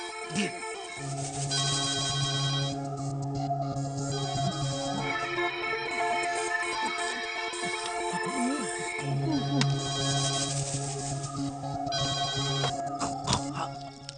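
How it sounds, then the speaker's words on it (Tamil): A phone rings during a Tamil comedy film scene from Minnale, its electronic ringtone repeating in steady, melodic tone patterns that fill the whole stretch at a moderate, even level, with no talking over it. "டேய், போன் அடிக்குதுடா"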